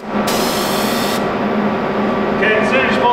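A spray gun painting a truck frame lets out a loud, hissing burst of spray lasting about a second, over a steady mechanical drone, with a voice briefly speaking afterward.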